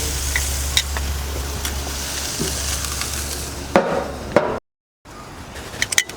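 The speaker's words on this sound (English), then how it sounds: "I'm gonna flip this one over" Supermarket steak sizzling steadily in a hot pan as it is flipped, with a couple of sharp clatters and a brief dropout near the end.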